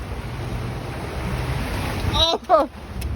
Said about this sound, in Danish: Der kommer bølger.